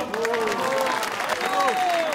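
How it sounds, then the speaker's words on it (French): Applause from an audience following a ribbon cutting at the inauguration of a consulate in Marseille, a steady wash of clapping over about two seconds with voices talking over it. "On peut applaudir."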